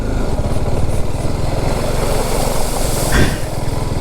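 BMW G310GS motorcycle engine running steadily and loudly at low speed through a slippery, fungus-covered water crossing, with a brief splash or surge near the end.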